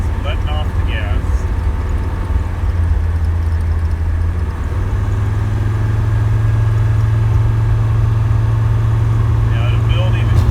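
A Mercedes 300D diesel engine with its center muffler deleted runs at cruise, a continuous low throaty drone whose pitch shifts as the throttle is released and then picks back up, loud and steady.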